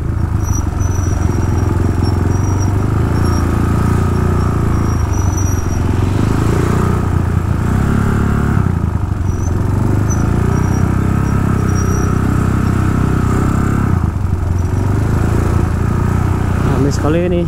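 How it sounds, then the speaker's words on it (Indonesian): Motorcycles crawl slowly through crowded, busy traffic on a Bali road on the afternoon before Galungan 2022, a steady low engine rumble and street noise running throughout while someone talks over it. "pelan-pelan sekali jalannya motor."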